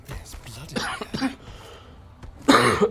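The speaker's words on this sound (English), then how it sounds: "I'm really sorry about the coughing" A person coughs in several harsh, close bursts, with a louder cough at the end and some throat sounds between.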